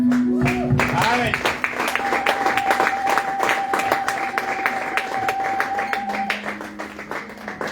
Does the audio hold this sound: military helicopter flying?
no